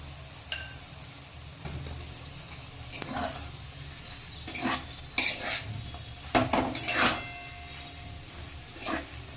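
Boiled potatoes are stirred into a spiced singara filling in a pan, with scraping, clinking spoon strokes in uneven bursts over a soft, continuous sizzle.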